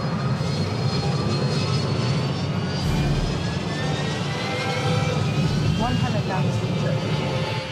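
Jet engines of an easyJet Airbus A320-family airliner roar steadily at close range in the cockpit during the takeoff run, a loud continuous broadband rumble with rising tonal whine, and faint cockpit voices audible under the engine noise.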